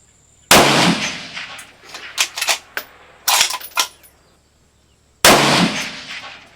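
A rifle fitted with a TMB barrel tuner fires two loud, sharp shots several seconds apart, each with a ringing decay, and a run of metallic clicks and clanks comes between them.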